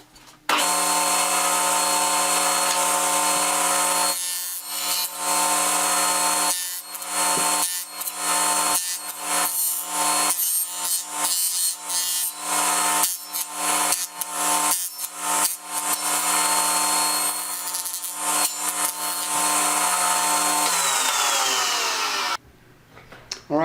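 A table saw cuts wooden top bars for Langstroth beehive frames with a sustained loud whine. Repeated passes in shallow 3/8-inch-deep cuts create brief dips and rhythmic interruptions before the blade spins down near the end.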